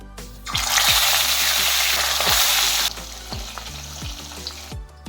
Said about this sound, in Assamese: এতিয়া মাছৰ মূৰ দুটুকুৰা নিমখ হালধি দি কেৰাহীত তেল অলপমান দি ভাজি ল'ম